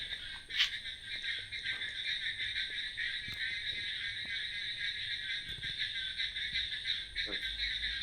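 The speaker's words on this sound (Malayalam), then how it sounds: "തവള കരയുന്ന ഒരു സൗണ്ട് ഉണ്ട്. രാത്രിയിൽ എടുത്ത വീഡിയോ ആണ്." A dense chorus of frogs croaks and trills continuously in the background at night, steady and moderately loud with no voices.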